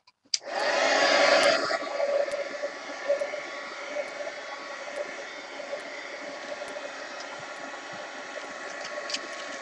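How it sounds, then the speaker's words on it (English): A heat gun blows steadily to dry paint splotches on a mixed media coffee art journal page. It starts with a loud rush of air, then settles into a continuous, even whoosh close by. "Heat gun. I gotta dry my splots."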